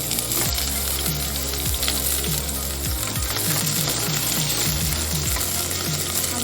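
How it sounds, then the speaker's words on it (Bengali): Potatoes fry in a pan with bay leaf and cumin for a bottle gourd curry, a constant close sizzle broken by repeated metallic clinks and scrapes of a stirring utensil. "আলুটা ভাজা হচ্ছে"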